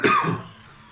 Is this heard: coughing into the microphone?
yes